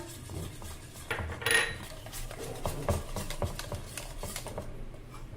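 Kadhi batter with flour is whisked in a pot, making a steady run of close metallic scrapes and clicks from the utensil against the pot, with a louder clatter early on.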